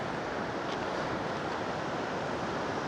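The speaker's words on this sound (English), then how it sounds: "And pretty little waterfall coming off this, off the river here." Small waterfall spilling off a river in the Grand Tetons, heard as a constant, dense rushing roar, loud and close, with no voices.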